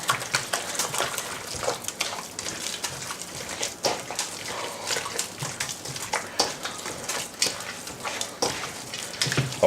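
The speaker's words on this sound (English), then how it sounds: "we're gonna mix it up really good" Pork braciole stuffing being mixed by hand, giving a steady run of wet, squishy squelches and soft slaps at close range with no talking.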